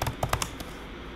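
Quick keystrokes on a computer keyboard, a handful of sharp close clicks in a fast burst, then a pause before one more tap.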